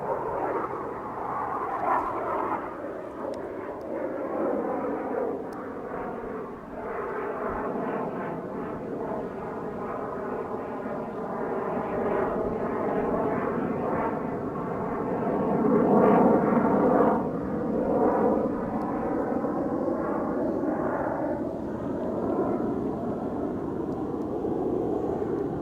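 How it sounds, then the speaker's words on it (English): A jet aircraft passes overhead near Playa Blanca, a loud, steady roar that swells toward the middle and lingers as it moves away, with no talk over it. "this jet which is flying over us"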